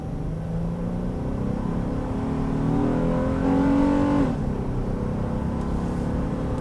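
A 2017 Honda Ridgeline pickup pulls a 5,000-pound trailer from a standstill to 60 mph, its engine note droning steadily and rising in pitch as it accelerates, then dropping at a shift before settling into a continuous hum, with no talking.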